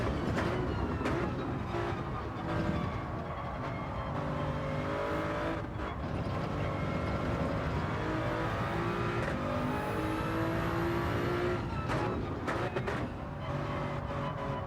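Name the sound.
race car engine driving, Gran Turismo video game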